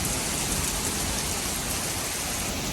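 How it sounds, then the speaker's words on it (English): Heavy torrential rain pours down at a campsite, a dense, unbroken hiss of drops drumming close by and loud, with no talking. "So current situation is it's downpouring, like torrentially downpouring."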